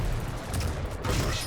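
In a Quake-style arena shooter, a rocket hits with a dense, loud blast of explosive game effects, short and layered with rapid gunfire-like crackle.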